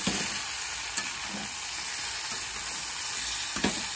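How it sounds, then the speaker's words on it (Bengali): Potatoes, eggs and beans fry with spices in a pan in a hut kitchen, giving a steady close sizzle and hiss, with a few soft scrapes of stirring and no talk. "মশলা দিয়ে ভালো করে কষিয়ে নিচ্ছি, আলুগুলো ডিম শুঁটি সব একসাথে।"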